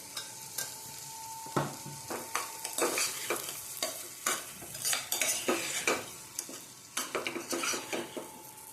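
Cowpea curry with tomatoes and a little sugar cooking in oil, a spoon scraping and clinking against the pot in irregular bursts over a soft steady sizzle, close and fairly quiet, no voices.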